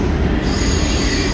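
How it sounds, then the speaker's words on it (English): A long freight train passes close by in downtown Nashville, a loud, continuous low rumble and grinding of railcar wheels on track with a steady metallic hiss above it. "this train's long. I still don't see the end of it behind me."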